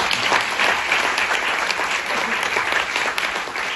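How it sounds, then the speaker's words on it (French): An audience at a business trophy ceremony claps steadily for the winner, dense sustained applause throughout with no pauses. "on peut l'applaudir"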